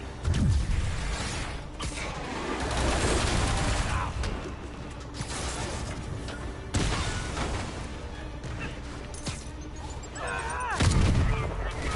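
Guards open fire on Spider-Man in the Spider-Man Game of the Year Edition video game: loud, dense bursts of gunfire and heavy booms with whooshing movement, continuing for the whole stretch.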